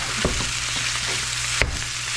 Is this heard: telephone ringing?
no